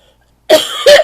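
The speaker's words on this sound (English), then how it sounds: "Excuse me, I have to cough." Two quick, loud coughs in close succession, close to the listener, after a moment of silence.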